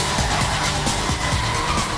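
Stock car tires skid during a crash at Martinsville in the 2006 Subway 500, Martin Truex plowing into the back of another car and punching out its radiator; loud, dense engine roar and scraping tire noise fill the whole moment.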